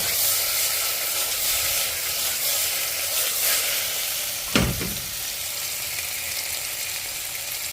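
Chicken biryani ingredients sauté in a hot pan, giving a loud, continuous frying hiss with a scraping stir and a brief clatter midway, no voices.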